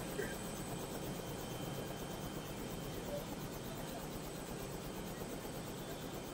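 A helicopter flies over a tightly guarded welcome ceremony for a religious speaker in Bangladesh. Its steady, even rotor and engine drone fills the whole stretch as a faint, distant wash of noise.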